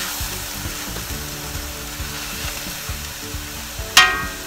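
Chicken sizzles steadily in a hot wok over medium-high heat while cooking for Thai larb gai, a continuous close frying hiss with one sharp metallic clatter of a utensil near the end; no voices.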